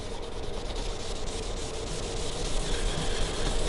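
Steady rubbing of black cherry stain by hand onto a wooden Telecaster-style guitar body, a close, continuous soft scrubbing texture with no pauses and no talking.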